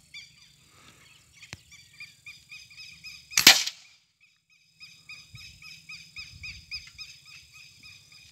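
An air rifle fires a slug pellet outdoors: one sharp, loud crack stands out midway while birds or insects chirp rhythmically in the background before and after.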